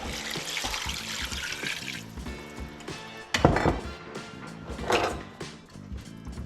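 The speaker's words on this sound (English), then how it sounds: "Then I'm gonna add 4 cups of water." Water is poured into a pot of chicken and sausage sauce piquant, a steady close trickle and splash that thins out, followed by a few louder clanks and stirs against the pot.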